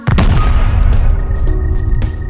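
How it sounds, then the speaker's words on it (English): A satchel charge detonating in the survival game Rust, a loud close boom followed by a heavy rumbling, crackling decay that fills the rest of the moment. "I'm getting really lucky with the satchel explosions today, though."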